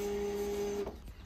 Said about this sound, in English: printing way too many pages